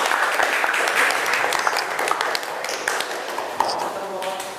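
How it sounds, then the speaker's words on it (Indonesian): Classroom applause for a student group fills the room with a steady patter of many hands clapping, sustained and fairly loud, with voices mixed in beneath. "Beri aplaus untuk kelompok 2."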